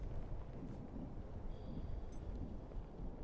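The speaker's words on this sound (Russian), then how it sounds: "Вы слышите, как дует ветер Марса" Martian wind in the video game Take On Mars: a low, continuous rushing gust blowing steadily and fairly softly across a plain, with no speech over it.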